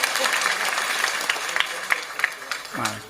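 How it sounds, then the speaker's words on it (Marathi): Audience clapping along at a Marathi kirtan, a rapid steady patter of many hands filling the space, with a voice speaking over it toward the end. "टाळ्या वाजवा."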